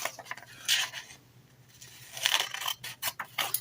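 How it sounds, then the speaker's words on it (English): Scissors snip through paper while trimming pieces for storybook peekaboo tags, giving a few close, crisp cuts in short bursts separated by quiet pauses. "And then we're going to cut this part off."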